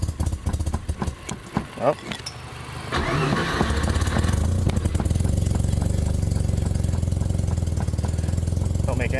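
A roughly running FC car engine, loud and close, with an uneven, lumpy idle that steadies into a continuous rumble; a person briefly exclaims over it.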